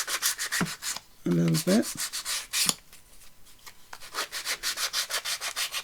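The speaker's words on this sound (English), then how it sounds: "I think I'm going to have to take my sanding block to them. Just sand that edge off" Sanding block rubbed back and forth over the shiny white edges of papercraft pieces for a junk journal, a close rhythmic scraping of quick strokes, with a brief spoken phrase partway through.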